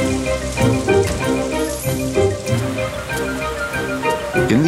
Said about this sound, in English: In the everyday world, it rains.